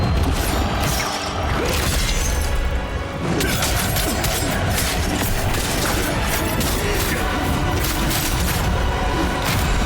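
A video game boss fight in The First Berserker: Khazan rumbles with repeated explosions, crashes and clanking impacts, dense, loud and continuous, no voices.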